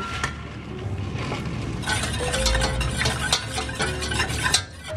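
Salad of cucumber, tomato, corn and red onion with salad seasoning being tossed and stirred in a bowl, steady close mixing rustles with occasional light clinks, no talking.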